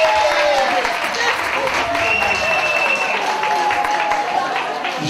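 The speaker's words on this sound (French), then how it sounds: "Christina, on l'applaudit très fort." An audience claps loudly for a woman named Christina at a gathering, a dense, sustained wash of applause lasting the whole stretch, with voices faintly mixed in.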